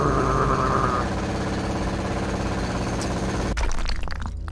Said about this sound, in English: I wonder if that jackhammer comes with free ear protection